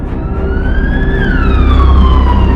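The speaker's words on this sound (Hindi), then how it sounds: "एम्बुलेंस सिटी हॉस्पिटल में पहुंची।" Ambulance siren wailing loudly and continuously in a horror story, its pitch sweeping up and then gliding down over a low vehicle rumble.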